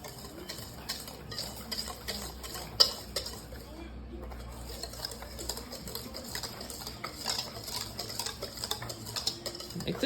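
A baking mixture is whisked by hand at a slow pace, giving soft, uneven scraping and light clinks of the whisk against the bowl. The sound stays faint and close, with a short pause in the middle.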